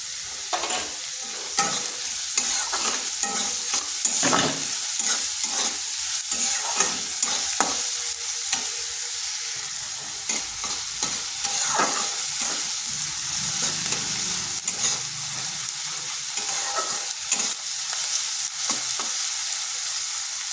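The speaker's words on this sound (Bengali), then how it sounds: "পেঁয়াজটা ভাজা হয়ে গেছে" Onions fry in a pan with a steady, close sizzle, broken by repeated scraping stirs of a spatula at an uneven rhythm, with no talking.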